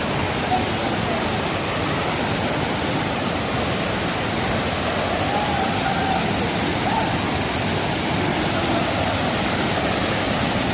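Marottichal waterfall in Thrissur, Kerala, a main falls where people bathe, pours in a steady, loud, broadband roar of rushing water, close and unbroken throughout.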